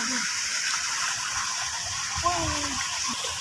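Irrigation water gushing steadily into a field channel outdoors, a continuous loud rushing wash with voices talking faintly underneath.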